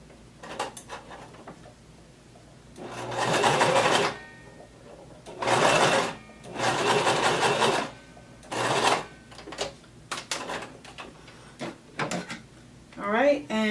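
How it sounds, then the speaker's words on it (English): A home sewing machine runs a long basting stitch on a seam of an off-the-shoulder maxi dress, in several bursts of steady whirring separated by pauses, close and fairly loud, with handling clicks between runs. "make sure you change your stitch to the longest one on your machine"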